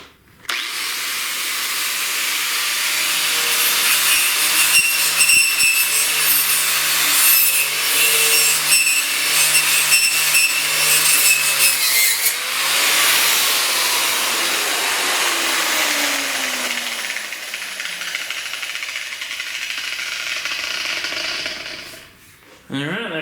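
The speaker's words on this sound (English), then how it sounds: "grab the angle grinder with the wire death wheel and clean this thing up so I've got a good welding spot" A wire wheel on an angle grinder scrubs a steel frame mount in a driveway, a loud, steady high-pitched whine and scratch running for about twenty seconds, its pitch sagging under load before cutting off near the end.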